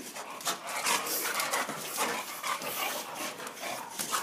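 A Boxer dog pants close by in quick, rhythmic breathy huffs, with faint rubbing and shuffling in between. No one speaks.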